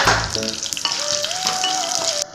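Dried red chillies and chana dal frying in hot oil for a chow chow chutney, a steady close sizzle with a brief clatter near the start and no talk.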